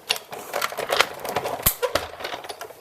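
A Big Shot die-cutting machine cuts a paper circle, making a close, rough run of clicks and crackling grinds from the crank with a sharp snap near the middle.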